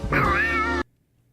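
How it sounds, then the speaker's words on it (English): A single loud, drawn-out cat meow, close by, ending abruptly into silence. "how is this guy meowing with an American accent?"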